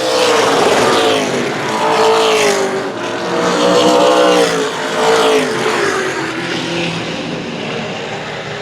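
Race cars on the track at Central Texas Speedway, a loud, continuous engine roar with pitch rising and falling as several cars pass close by in waves.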